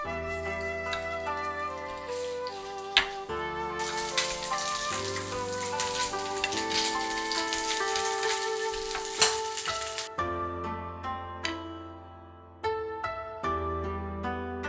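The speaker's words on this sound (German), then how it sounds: "Die Garnelen eben kurz braten." Shrimp frying in a hot pan while Chinese-style green asparagus with scrambled egg and shrimp is cooked, a loud, continuous sizzle and crackle with a swell of intense spitting in the middle, over a soft musical backing.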